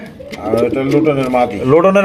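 Danish pigeons coo close by in a steady run of soft, throaty, rolling calls, fairly loud and continuous.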